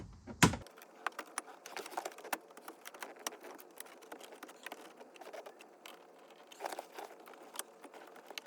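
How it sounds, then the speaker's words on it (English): Plastic trim tool prying dash trim loose on a Honda Accord during a stereo install, heard as a steady run of close, sharp clicks, creaks and scraping crackles with a few louder snaps, no talking. "I got my trim tool. We're gonna start prying away at this so we can remove this piece."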